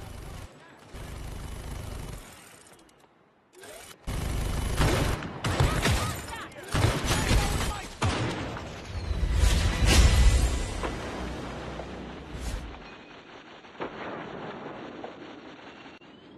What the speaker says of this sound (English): Our turret in action.